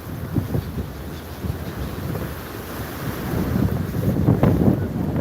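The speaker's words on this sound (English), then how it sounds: "Look at the waves breaking against the." Sea waves breaking against breakwaters in strong wind in Istanbul, a loud continuous roar of surf and gusts buffeting the microphone, building toward the end, with no voices.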